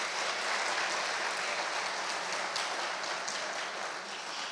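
A church congregation applauds continuously, a broad wash of clapping hands that holds steady for several seconds before easing slightly at the end.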